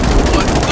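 Rapid automatic gunfire from the online game Atlas, a very short loud burst of quick repeating shots, up close and crowding the whole moment.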